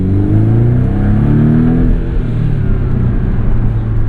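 A 2017 Porsche 718 Boxster S with PDK gearbox and MTM tuning accelerates hard. Its engine drone is loud and close, rising steadily in pitch, then dipping briefly and climbing again over a constant road rumble. No one speaks.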